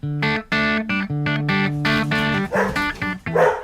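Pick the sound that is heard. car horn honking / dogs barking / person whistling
dogs barking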